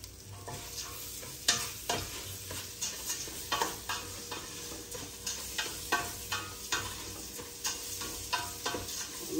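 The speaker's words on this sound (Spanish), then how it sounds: "Voy a agregarle la cebolla." Onion frying in a pan for shrimp rice, with a steady sizzle throughout and repeated scraping stir strokes in a loose rhythm, close and fairly loud, no voices.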